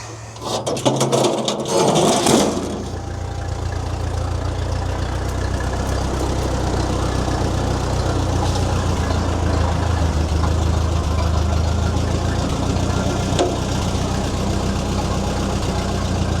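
An old abandoned V4 diesel engine runs steadily at raised revs with a seized governor, never dropping back to idle, a loud continuous low rumble with a brief clattery burst near the start.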